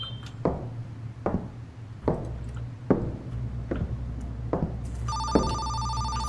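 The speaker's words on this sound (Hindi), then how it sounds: "Phone ringing again." Sharp clinking taps recur about every second alongside a low steady hum, then a loud electronic phone ringtone starts near the end and keeps ringing.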